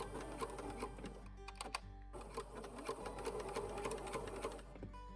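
A sewing machine back stitching a seam on a romper, a fast, even mechanical whir of needle strokes close up, with a brief pause and restart partway through.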